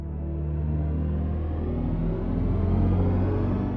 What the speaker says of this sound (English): With hypersonics, we do have different driving sounds depending on the experience.